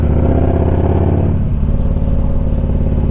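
A 2000 Harley Davidson Electra Glide Classic engine runs close and loud, a steady deep pulsing V-twin idle with a rhythmic lumpy beat that eases slightly partway through.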